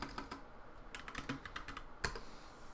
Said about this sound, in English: if you type in npm run dev,